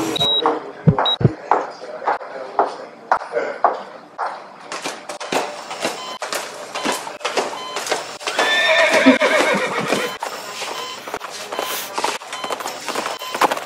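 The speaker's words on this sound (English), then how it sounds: "You got horses loose in here somewhere?" Horses whinny repeatedly amid a busy, noisy stretch, with hooves clip-clopping and shuffling movement throughout, a long neigh standing out near the end.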